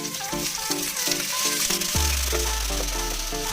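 String beans fry in olive oil and butter in a separate pan over medium heat, a close, steady sizzle with gentle spattering and a few soft stirring knocks.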